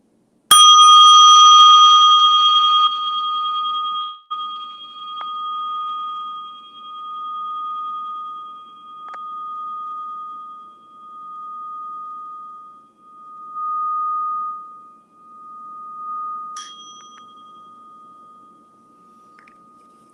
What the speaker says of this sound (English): this beautiful sound of the Tibetan bell